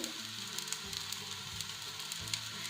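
Hara bhara kababs fry in shallow oil in a pan, giving a steady close hiss and crackle with small pops throughout, and no voices.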